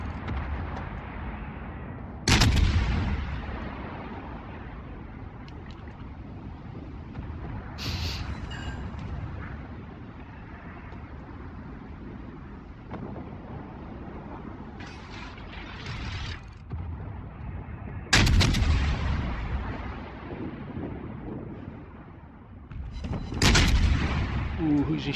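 Naval gunfire from the USS Cleveland cruiser in World of Warships: heavy booming salvos at about 2, 8, 18 and 24 seconds, each a sharp loud blast that rolls off over a steady rumble of engine and sea noise, with a few lighter shots between.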